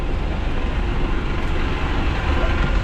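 Train at a platform of a busy Edinburgh railway station, a loud steady low rumble and rolling noise filling the whole stretch with no break.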